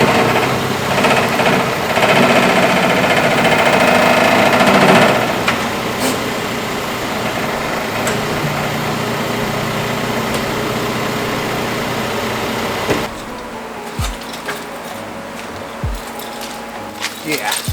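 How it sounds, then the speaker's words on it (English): A bagged Toyota MR2 with an exhaust damaged in a collision rattles and buzzes over a droning engine. The sound is loudest for the first few seconds, then settles into a quieter, thinner rattle that drops off sharply near the end. "my exhaust got messed up, like it rattled super hard"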